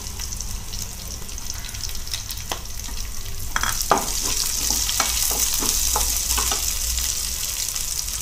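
Onion pieces and fennel seeds fry in a pan with a steady, close sizzle, broken by a run of scraping stir strokes in the second half; no one speaks.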